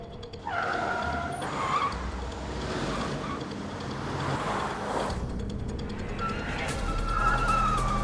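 A car roars and skids while overtaking during a chase in a Hindi-dubbed action film, with loud engine noise and a screeching slide under continuous rushing sound.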